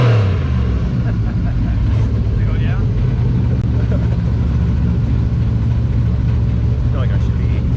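A truck engine accelerating hard on an autocross run at Road America, a steady low drone with rising gear pulls, heard continuously under speech.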